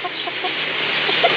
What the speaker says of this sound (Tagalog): So ito yung mga manok.